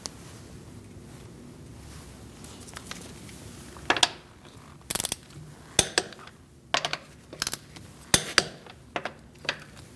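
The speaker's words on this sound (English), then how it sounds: "We're going to torque our wheels to 96 foot-pounds," A torque wrench tightening wheel lug nuts to 96 foot-pounds in a star pattern on a 2008-2014 Mercedes-Benz C300 3.0L V6, heard as scattered sharp metallic clicks and clanks after a quiet stretch, close by with no speech.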